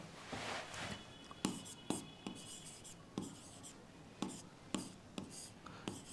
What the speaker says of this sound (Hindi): तो मैं फार्मूला लिख देता हूँ बेटा